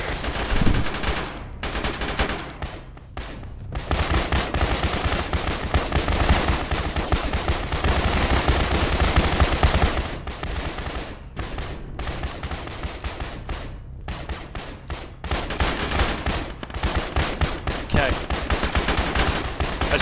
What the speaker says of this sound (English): That is a machine gun! My gun, 100 rounds rapid, hit him up!